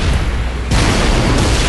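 A Wraith tank shot explodes nearby in Halo Reach, a loud, deep boom with a broad crackling burst that swells again partway through.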